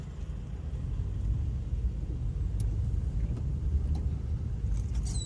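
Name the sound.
tractor trailer truck driving nearby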